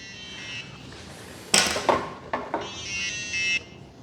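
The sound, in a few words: E-flite RC transmitter inactivity alarm beeping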